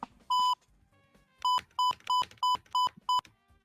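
Censor bleeps from a voice-changer app during a gaming session: one short tone, a pause, then a rapid burst of six sharp identical beeps in a quick regular rhythm, loud and alone.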